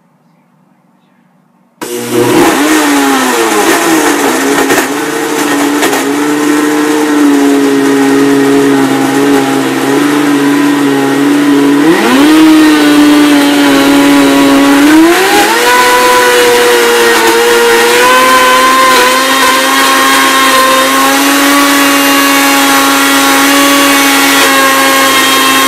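Countertop blender running on its smoothie setting: a loud, steady motor whine that starts abruptly and holds, with pitch shifts and surges as the contents churn, close and dominant throughout.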